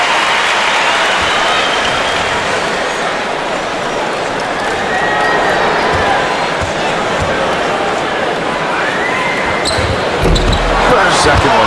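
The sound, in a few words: crowd applause at basketball game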